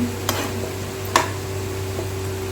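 Whole green moong dal is stirred into masala in a pot, a faint scraping hiss under a steady low hum, marked by two sharp clicks of the spoon against the pan.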